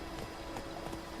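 Horse hooves clip-clopping at a steady trot in The Witcher III, a few muffled beats under a dense, noisy background.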